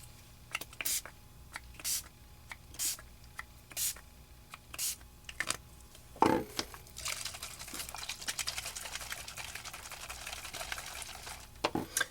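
Small bottles of mica powder for card art are shaken side to side, giving a series of short rattling swishes at a steady rhythm, then a louder clack and a longer rustling stretch, close and fairly quiet.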